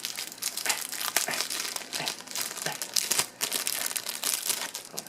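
Plastic packaging crinkles continuously at close range as a metal wand keychain is worked out of it, with dense irregular crackles and rustles that stay fairly quiet throughout.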